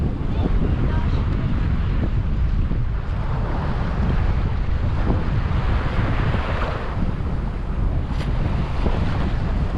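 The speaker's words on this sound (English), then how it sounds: "it's usually not as windy here" Strong wind buffets the microphone continuously, roaring over the wash of surf on Orient Beach or Maho Beach, loud and steady throughout.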